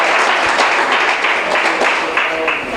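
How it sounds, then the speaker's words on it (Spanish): Church congregation applauding together, a dense continuous wash of clapping that holds steady and fairly loud from start to finish, with faint voices mixed in. "Aplaudan a Dios."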